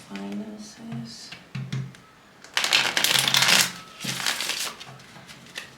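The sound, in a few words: shuffling a deck of cards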